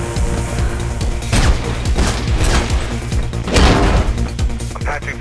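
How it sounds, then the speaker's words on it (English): Gunfire in the video game Mirror's Edge crackles in dense bursts, loud and close, with sharp cracks and heavier booms layered over a busy backdrop. "I can hear gunshots"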